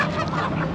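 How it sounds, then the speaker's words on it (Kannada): Ducks at a poultry market in Chandapur, Bengaluru, give a brief burst of nasal honking calls that sound close and fairly loud. "ಬಾತುಕೋಳಿಗಳು"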